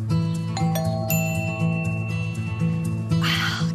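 Two-tone doorbell chime from an ADT Video Doorbell on a home porch, ringing clearly and repeating with lingering tones over a low musical background.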